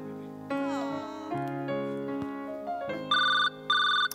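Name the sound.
phone ringing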